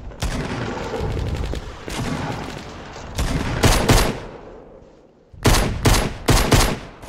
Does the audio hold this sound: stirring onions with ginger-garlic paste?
no